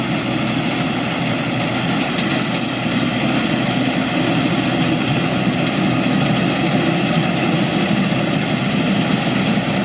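The diesel engine of a rice harvester runs steadily with a loud, constant droning hum and low rumble, unchanging and close throughout, with no speech.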